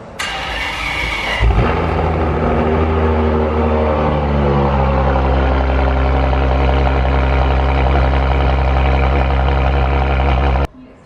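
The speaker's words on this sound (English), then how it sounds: "This is a cold startup on a Ferrari" A Ferrari 599 GTO cold start: a sharp crank and loud roaring catch, then a steady, rich, high idle that holds close and loud until it cuts off abruptly.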